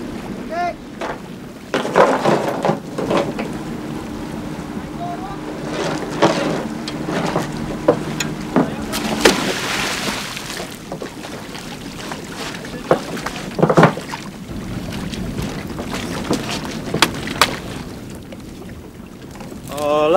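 An outboard motor on a boat in Tahiti, French Polynesia, eases off as it crosses shallow coral about one to one and a half metres deep, its engine rumble mixed with water splashing and wind buffeting the microphone, with a voice speaking briefly.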